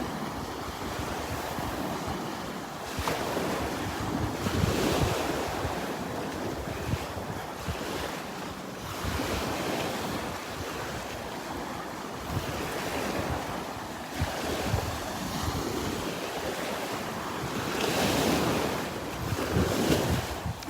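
Warm breeze gusting across a beach at Delnor-Wiggins, with waves washing onto the shore and steady wind buffeting the microphone in surging rushes, no voices.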